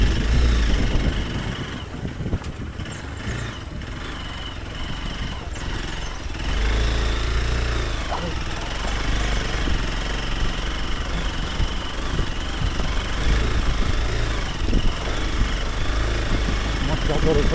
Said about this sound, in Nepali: ये तो यार of road bike of road में लड़ेगा